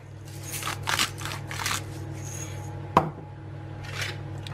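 Whisk beating a cinnamon coating for roasted almonds in a bowl, several scratchy bursts of strokes with a sharp clink near the middle, close and fairly quiet.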